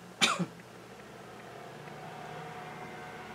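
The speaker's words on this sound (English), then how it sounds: "I'm having a cough." A single sharp cough up close, followed by a quieter second burst, then low steady background noise.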